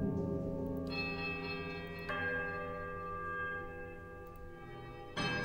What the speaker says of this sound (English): This is a quiet, melodic chime from all three bells before their discordant voices meet in one powerful, rising rush of sound.